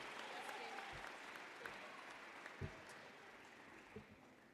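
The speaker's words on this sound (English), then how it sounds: "one more round of applause for my class" Sustained applause from an audience honoring a class at a school closing ceremony, a dense even wash of clapping filling the room, with a few louder claps and a voice briefly audible.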